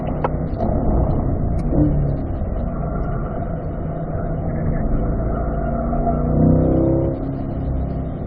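A car rolls through an easy cool-down lap on a race track, its engine a loud, close rumble that swells gently as it eases off and pulls over, with no voices.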